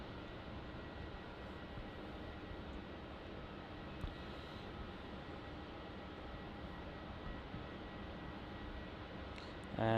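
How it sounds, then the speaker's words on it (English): A Qatar Cargo plane on final approach to Melbourne Airport, banking over Port Melbourne, produces a steady, broad engine roar that holds at an even level for the whole stretch, heard from a distance outdoors. "Qatar Cargo is now on final, just making its final left-hand bank over the sort of Port Melbourne area"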